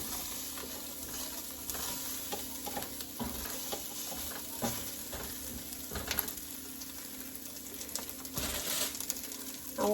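Freeze-dried chopped onion gets stirred in a pan, producing a soft continuous sizzle with light scraping touches from the spoon, faint and close.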